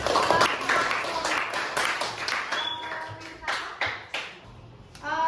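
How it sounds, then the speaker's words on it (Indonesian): A crowd of teacher-training participants claps in a quick, scattered burst of applause, fairly close, with some voices mixed in underneath before it tapers off. "berikan tepuk tangan"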